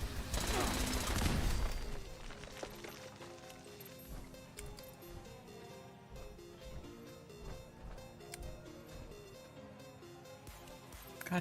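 Gunfire erupts in a video game, opening with a loud, dense burst of rapid shots, then thinning to scattered, quieter reports over a tonal background.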